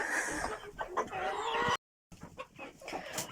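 Several chickens cluck and squawk close by in a busy coop, with the sound briefly cutting out midway before the clucking resumes.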